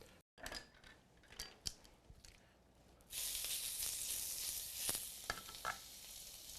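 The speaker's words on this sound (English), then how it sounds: "now we're going to sear the wild boar" Lean wild boar meat sears in a hot pan. Scattered taps and clinks come first, then a loud, even sizzle erupts partway through and carries on with occasional utensil knocks.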